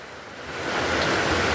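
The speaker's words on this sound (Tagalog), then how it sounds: "kusog mang ulan" Heavy rain pours steadily outdoors during a garbage collection run, a dense broadband hiss that builds slightly and holds, with no voices over it.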